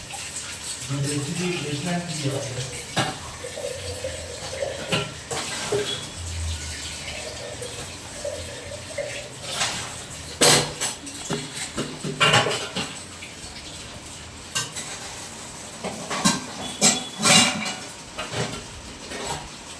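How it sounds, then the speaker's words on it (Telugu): Dishes, pots, a gas stove and a copper pot being scrubbed and washed in a kitchen, with clattering metal, running water and sharp clanks scattered through, while a voice talks intermittently over parts of it. "కిచెన్లో గిన్నెలు అండ్ స్టవ్, గ్యాస్ స్టవ్, రాగి చెంబు అవన్నీ తోమేసుకున్నా"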